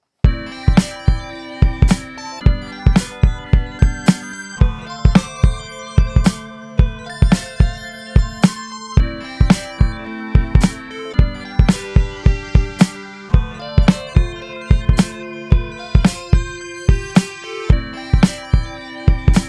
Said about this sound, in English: what you're hearing is the voices cutting themselves off